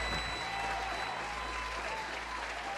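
Studio audience applause on a comedy talk show, a steady dense wash of clapping that fills the whole stretch at even loudness with no voices over it.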